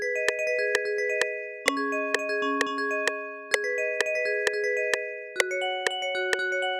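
Nexus DX-style bell synth preset with delay and reverb turned off, layers 1 and 3 muted, plays a crisp rhythmic pattern of bright struck chime notes and chords, each attack clean and decaying quickly.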